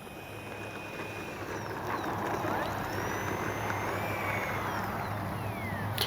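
Small FMS F-16 64mm electric ducted-fan RC jet passing overhead, a steady whooshing whine that swells as it draws closer and sweeps across, heard from the ground at moderate distance.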